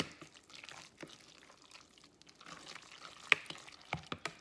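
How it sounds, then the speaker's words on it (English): Food being stirred in a pot for a big Palm Sunday dinner: soft, irregular scraping and swishing strokes, with a few sharper clacks of the spoon against the pot near the end, close by and fairly quiet. "Now we're gonna stir this. Make sure that gets really stirred very well."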